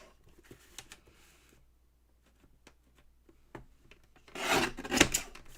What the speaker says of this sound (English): I'm going to trim this side.